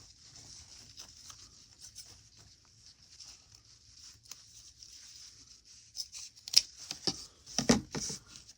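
Scissors snipping through a strip of zipper tape in a quiet room, soft scattered rustles and handling noises, then a few sharper close cuts near the end.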